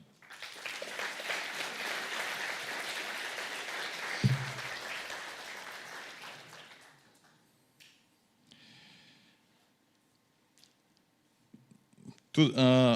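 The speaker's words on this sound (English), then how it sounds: "Please, dear participants, dear contestants, one applause for all of them" Audience applause at the opening ceremony of the Balkan Olympiad in Informatics fills a hall with steady, moderately loud clapping for several seconds, then fades away. A few clicks and brief voices follow in the quiet.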